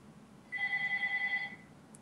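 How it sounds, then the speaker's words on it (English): A telephone rings once in the background as a single faint electronic trill lasting about a second, with no talk over it, during a card game tournament broadcast. "That's a phone."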